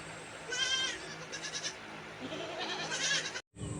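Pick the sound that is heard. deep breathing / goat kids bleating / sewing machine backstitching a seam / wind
goat kids bleating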